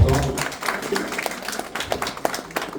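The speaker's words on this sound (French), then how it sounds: "j'aimerais d'ailleurs que vous applaudissiez pour vous-même déjà" An audience at a community awareness event applauds, a dense patter of many hands clapping close by, steady and lively over the whole short stretch.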